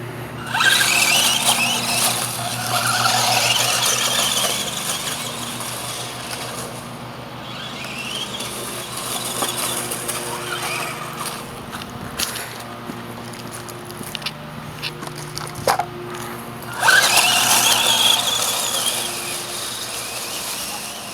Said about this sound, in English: Little ditch is fun to drive through, but it's hard to see the vehicle.